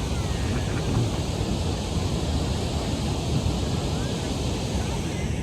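Ocean backwater surf at a beach between mountains near Juneau, Alaska, a continuous steady wash of water with wind buffeting the microphone, loud and unbroken, with no distinct wave breaks standing out.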